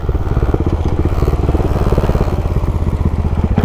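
A big single-cylinder motorcycle engine runs steadily and loud up close, its rapid, even thumping pulses holding the same pace with no voices throughout.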